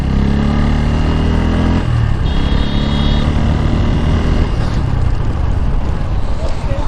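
Motorcycle braking hard from about 90 to a full stop, a loud continuous roar of engine and wind whose deeper drone drops away partway through as the bike slows.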